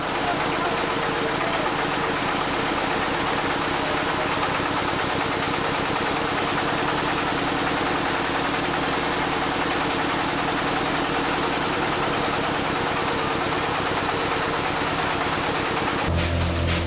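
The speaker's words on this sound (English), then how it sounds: "Corn is milled in this machine to make ugali for the villagers." Engine-driven village corn mill grinding maize for ugali, a loud continuous mechanical drone with rapid knocking pulses that runs unbroken, shifting abruptly near the end.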